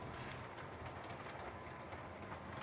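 An HO scale model electric locomotive pulling a sleeper wagon runs along its track, giving a steady, close rolling rumble with a faint clickety-clack that holds without pause.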